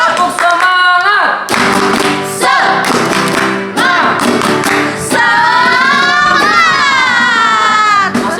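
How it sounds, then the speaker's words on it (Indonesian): A group of children in a Sunday school service doing a rhythmic clapping chant, loud bursts of sung voices punctuated by claps, close and energetic. "kita tepuk semangat yuk"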